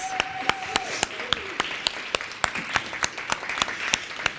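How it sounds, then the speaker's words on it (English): Audience applauding authors at an opening ceremony, a crisp, moderately sized crowd of claps with a few distinct loud hand strikes standing out, fairly close. "Let's give them a round of applause."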